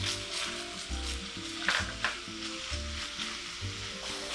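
Finely chopped red onion and beef for Mexican tacos sizzle in a frying pan with a constant close crackle, a couple of sharper scrapes partway through, and a rhythmic music bed underneath.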